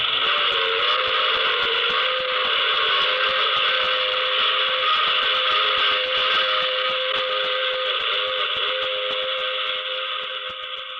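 A steady, droning train whistle or horn sounds continuously, loud and sustained, fading slightly at the end.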